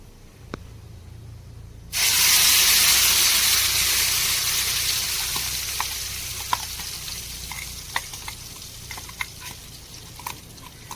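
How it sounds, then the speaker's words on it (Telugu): Masala paste for a sea crab curry hits a hot pan and sizzles loudly, a sudden steady frying hiss that slowly fades, broken by small pops and the clatter of stirring. "బాగా వేయించుకోవాలి"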